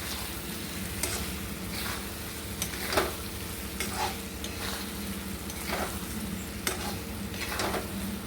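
Mustard and cashew paste frying in oil for a prawn curry, a soft steady sizzle broken by rhythmic spoon strokes scraping the pan every second or so as the paste is stirred.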